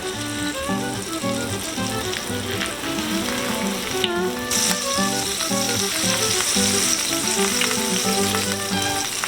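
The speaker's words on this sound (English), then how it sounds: "we're going to slide our spatula under our sandwich and carefully flip it over into the pan" A Reuben sandwich sizzles steadily in a hot frying pan just after being flipped, a dense continuous crackle of frying that holds loud and even throughout, with a faint tonal hum underneath.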